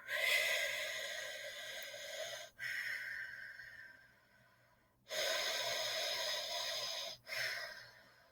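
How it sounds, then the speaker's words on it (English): Deep breaths drawn in and pushed out through the mouth, long airy inhales and exhales alternating in a slow cycle, close and clear with no talk over them. "We're going to go in and out through our mouth for this one."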